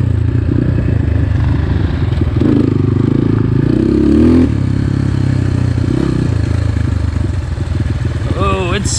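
A 2021.5 GPX FSE 250 E dirt bike engine drones loudly while riding, revving and shifting with clattering and wind, and a person talks over it.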